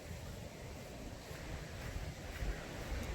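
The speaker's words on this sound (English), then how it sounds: "You can hear water." Steady rushing water from a creek outdoors in Alaska, a broad continuous wash of flowing sound with light wind noise, no voices.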